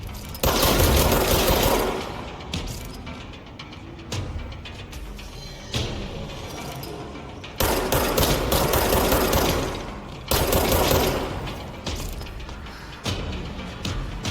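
Gunfire in the video game Control, repeated loud bursts of shots with short gaps between them, with mechanical clatter between volleys.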